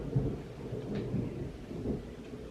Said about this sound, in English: Thunderstorms, we love them.